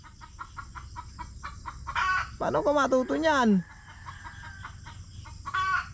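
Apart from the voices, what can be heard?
chickens clucking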